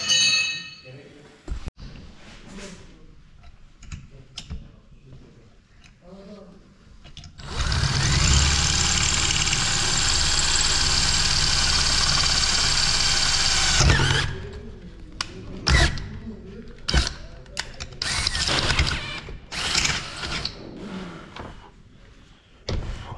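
A Bolat 5820 chainsaw engine with a torn wire and dust-choked air filter runs loudly at steady revs for several seconds, then cuts out and bogs, amid short clanks and people talking nearby.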